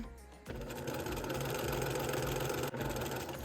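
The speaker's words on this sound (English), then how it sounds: "Let your machine run a stitch or 2 in between each piece of fabric" A sewing machine stitches quilt fabric pieces chained one after another, running in a steady, close, rapid mechanical whir with a brief stop near the end before it resumes.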